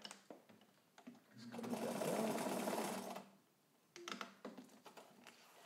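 A Necchi BU Nova sewing machine stitches garment-weight leather on a long stitch, running in one smooth, steady burst of about two seconds, framed by nearby clicks and handling sounds.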